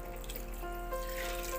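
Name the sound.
water being poured into egg curry in pan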